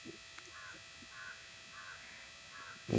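A man imitates crow caws with his mouth: four short, faint, evenly spaced cawing calls over a quiet background hum.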